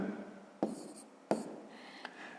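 A pen scratches across paper in a school maths exercise, soft close strokes punctuated by two sharp taps and a brief scribble, with no voices.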